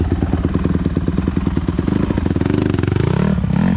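A Honda CRF150 dirt bike engine pulses rapidly at low revs while riding off slowly on the clutch, then revs higher and smoother, loud and close throughout.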